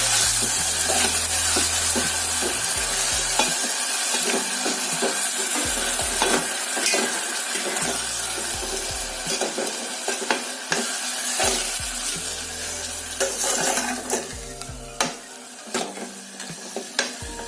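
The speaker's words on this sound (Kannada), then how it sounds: "ಈಗ ನಾನು ಇದಕ್ಕೆ ಏನೋ ಮೆಂತ್ಯ ಪಲ್ಯ ಏನೋ ಕುದಿಸಿಟ್ಕೊಂಡಿದ್ವಲ್ಲ ಅದನ್ನ ಆ್ಯಡ್ ಮಾಡಕತ್ತೇನೆ." Cooked fenugreek leaf curry being stirred in a frying pan, with a steady sizzle and repeated scraping strokes of the spoon against the pan, close and fairly loud throughout.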